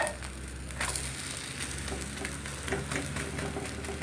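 Egg omelette frying in a pan, a steady close sizzle with soft crackles and occasional scraping, no voices.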